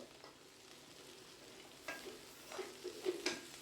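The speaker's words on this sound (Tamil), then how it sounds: "வெங்காயம் பச்சை மிளகா வர மிளகாய் எல்லாம் வதங்கி வரட்டுங்க" Onions with green and dried red chillies sauté in a pan for egg rice, giving a faint, steady frying hiss with soft stirring scrapes that build toward the end.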